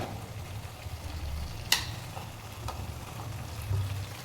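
Fried eggs being stirred into a simmering egg curry in a pan: a quiet, steady frying hiss with one sharp clink of a spoon partway through and a few soft scrapes.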